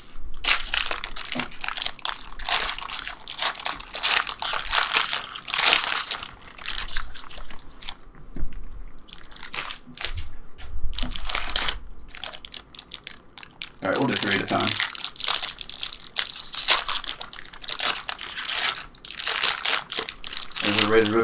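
Foil basketball card packs being torn open and crinkled, a loud, continuous crackling and rustling kept up for most of the stretch with only brief pauses, and a voice speaking now and then.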